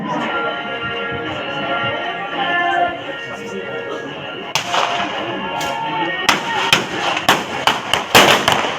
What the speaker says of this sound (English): The squad leader will command volume of fire.